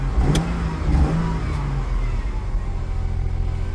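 A faulty car engine revs up to around 2,000 RPM and settles into a rough, steady running drone, close by and fairly loud.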